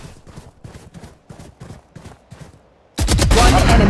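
Rapid bursts of gunfire in Valorant gameplay, a steady run of about nine quick shots followed by a much louder, dense blast of sustained fire near the end.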